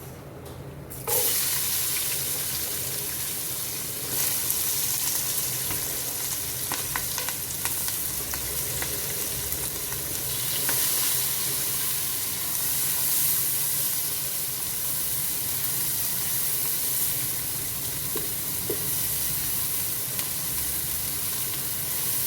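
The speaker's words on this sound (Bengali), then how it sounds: "এখানে আরেকটু তেল দিয়ে দিব। এখন দিয়ে দিব পেঁয়াজ, কাঁচামরিচ।" Chopped onion and green chilies fry in hot oil with cinnamon, cardamom and bay leaf, the start of a beef and papaya curry. A sharp hiss begins suddenly and stays dense and steady, broken by light scraping and stirring clicks.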